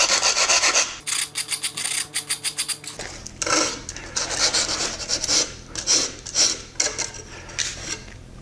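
Hand-filing or rasping the inside edge of an MDF handle template, a series of close, rough scraping strokes with a rapid, evenly spaced run in the middle and slower rubbing passes after.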